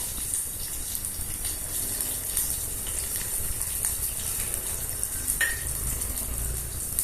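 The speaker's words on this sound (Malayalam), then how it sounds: "അതിലേക്ക് ഉള്ളിയുമിട്ട് നന്നായി ഒന്ന് ഫ്രൈ ആക്കി എടുക്കാം" Onions frying in sesame oil with mustard seeds and cumin, a steady sizzling hiss that carries evenly throughout, with no voices over it.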